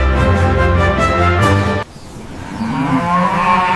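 Cattle on a ranch moo loudly and close up, long drawn-out calls filling the first half, then after a brief drop a lower, softer lowing continues to the end.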